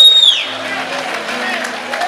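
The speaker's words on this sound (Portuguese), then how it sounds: "Aplaude ela aí, irmão, pelo amor de Deus" A live audience at a pastor's talk breaks into sustained applause, a steady wash of clapping mixed with crowd noise and voices throughout.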